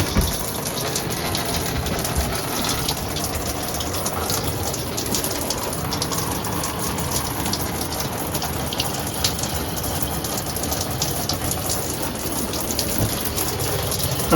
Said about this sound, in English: so we got to go turn the water on